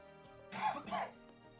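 A person nearby clears their throat and coughs in two short, rough bursts, set against a faint steady tonal background.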